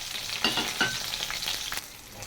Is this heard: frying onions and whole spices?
yes